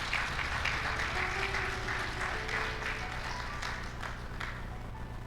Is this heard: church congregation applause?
yes